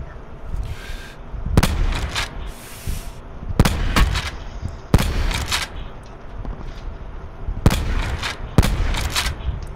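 Sniper rifle shots in Battlefield ring out as about seven sharp, loud cracks at irregular intervals over steady background battle noise, with almost no talk.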